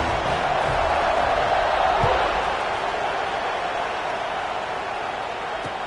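A football stadium crowd just before kickoff, a steady broad roar from many people that rises slightly then settles, continuous throughout with no distinct cheers standing out.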